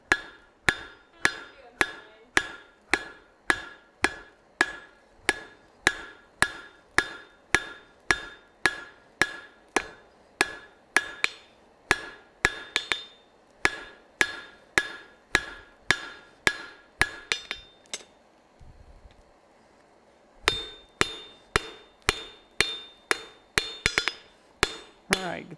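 Blacksmith hammering metal on an anvil at a live forging demonstration: a long run of sharp, ringing strikes in steady rhythm, loud and close, pausing briefly before the blows resume.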